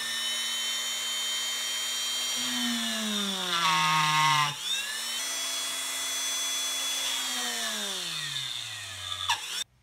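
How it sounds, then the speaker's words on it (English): A Dremel rotary tool with a cone bit countersinks a screw hole in PVC, a high, close whine that drops in pitch as the bit bites into the plastic, then revs back up and winds down near the end. "Next, I used a Dremel cone bit to countersink the screw head."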